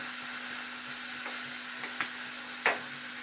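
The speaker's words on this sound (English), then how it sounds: "So this is how we're gonna quickly saute it." Chicken sautéing in a pan with tomato, giving a steady, fairly quiet sizzle and hiss, plus a few brief stirring knocks and scrapes toward the end.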